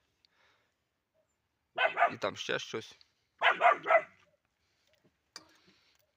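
A young dog barks in two short bursts of quick, sharp yaps close by in a quiet garden, with a person speaking briefly afterward.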